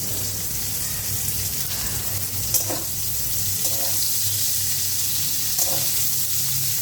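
Cauliflower florets frying in a pan with panch phoron, dried red chilli and green chilli, a steady broad sizzle throughout with a few faint scraping stirs, close and continuous.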